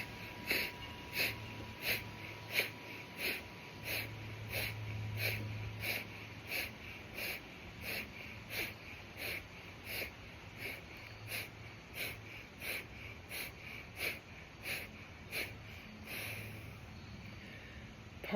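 Rapid, forceful Kapalabhati breathing, a round of about twenty sharp nasal exhalations in a steady, even rhythm, close and clear, with a short pause partway through.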